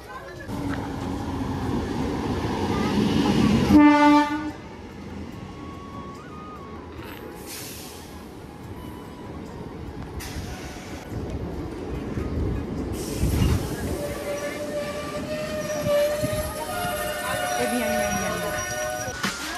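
A train pulling into a station, a loud rumbling roll of wagons with a clear horn blast early on and squealing wheels, while people talk throughout.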